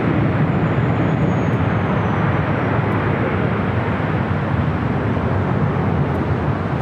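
A Cathay Pacific Boeing 777-300ER airliner arrives at LAX from Hong Kong with a continuous, loud jet engine rumble that stays steady throughout.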